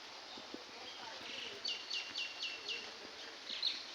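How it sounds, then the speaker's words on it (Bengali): Birds calling around a village at dawn under a cloudy, rainy sky: a short series of repeated chirps in quick succession, fairly faint over a soft background hiss, followed by another brief call. "চারিদিকে পাখিরা ডাকছে"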